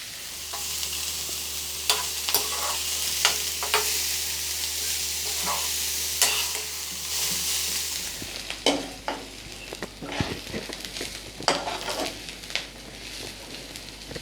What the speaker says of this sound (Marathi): आता कांदा आणि लसूण छानपैकी लाल होईपर्यंत परतून घेऊया।